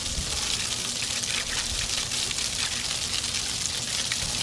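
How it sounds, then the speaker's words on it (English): Water sprays steadily onto a car wheel during cleaning, a continuous hissing rush that runs unbroken for several seconds with no voices. "Spray it, rinse it off with water, spray it on the wheel brush, spray it on the wheel."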